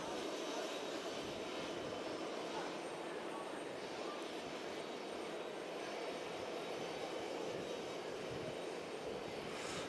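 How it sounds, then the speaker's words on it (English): A heavy jet airliner comes in to land at JFK, a steady broad roar of engine noise that holds loud and even for the whole stretch, with no clear rise or fade. "we got a heavy coming in"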